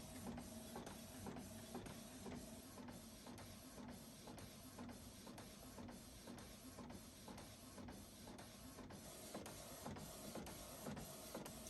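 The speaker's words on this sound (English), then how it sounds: "And this isn't just any printer." An archival-ink G-Clay art printer runs steadily, its print head passing back and forth in evenly spaced mechanical strokes with a constant whirring hum, heard alone and up close.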